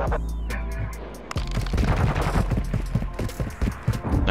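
Rapid bursts of Tempus Razorback rifle fire in Call of Duty Modern Warfare 2, loud sharp automatic volleys with short gaps between them, running through most of the moment after a lower rumbling start.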